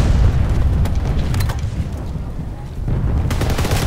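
A video game explosion roars as a loud, sustained, low rumbling blast, with crackling bursts and booms layered through it and a renewed surge near the end.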